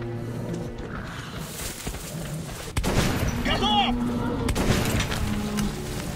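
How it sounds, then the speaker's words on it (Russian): Gunfire in the video game Metro: Last Light, with several sharp shot bursts cracking over a rumbling in-game soundscape, one heavier volley followed by a stretch of denser noise, and a voice seemingly talking underneath. "Право нажимаю, сразу две выстреливает."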